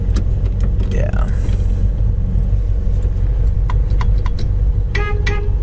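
A 1966 Ford Fairlane with a 4-speed idles steadily up close, a constant low rumble with a few faint clicks and brief tones above it.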